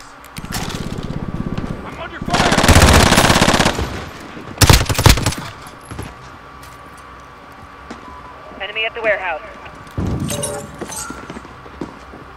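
Rapid automatic gunfire bursts in the online shooter Call of Duty Modern Warfare, loud and close, with sustained strafing, single sharp shots and quieter stretches between volleys, under a player's excited talk.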